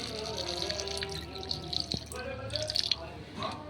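Water pours from above onto potted plants, a steady close trickle and splash with scattered drips and small sputters over a few seconds.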